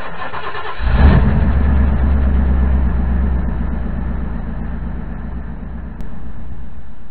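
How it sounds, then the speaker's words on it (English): The engine of a 1988 Fleetwood Jamboree motorhome cranks and catches, then settles into a steady, close, rumbling idle that stays constant throughout. "I run the engine for about a minute or two"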